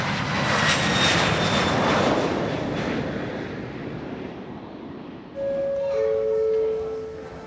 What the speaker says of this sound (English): The Palma flight is leaving, unbeknown to the Woodhouses